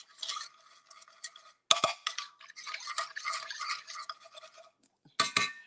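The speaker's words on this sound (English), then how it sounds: "All right, so I'm going to go ahead and mix this on up in there." A utensil scrapes and taps through a peach cobbler mixture flavoured with real vanilla, making uneven bursts of close, gritty stirring separated by short pauses.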